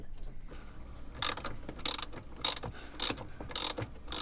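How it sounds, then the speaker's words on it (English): Hand ratchet tightening bolts on a new engine motor mount in a sailboat, five crisp clicking bursts in an even rhythm, close and fairly quiet. "Just bolting on the new motor mount"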